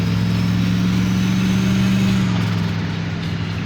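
A roughly 3,700-pound turbocharged car drives along, its engine giving a steady, loud low drone with a faint turbo whine layered on top, the tone dropping slightly near the end.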